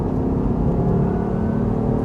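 Diesel engine of an Alpina D3 car with a paddle-shift gearbox, heard as a steady, loud, low droning rumble that holds constant throughout with no talking.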